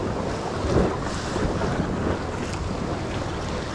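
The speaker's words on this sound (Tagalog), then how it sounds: "Malapit na yung bangka." A bangka boat draws near across the open sea. Its low hum is mostly buried under strong gusting wind noise and the wash of waves, with no voices.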